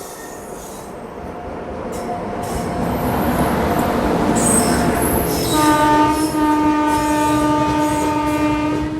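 The Gitanjali Express overtakes alongside a moving train, its wheels roaring and clattering loud and close, while a long sustained horn blares over the rumble.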